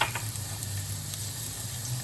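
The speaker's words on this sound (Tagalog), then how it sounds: "We're going to add our minced garlic." Minced garlic sizzles in hot oil in a pan, a dense, steady crackling hiss with a low hum beneath, close and continuous with no talk.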